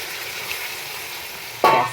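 Water is added to a hot pan of muri ghonto (a fish-head and rice dish). After a quiet stretch with faint kitchen noise, a sudden, loud, close sizzling hiss bursts out near the end.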